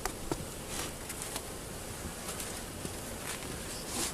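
Honeybees in a hive being fitted with an excluder hum as a faint, steady, close buzz, with small rustles and knocks scattered through it and no talk.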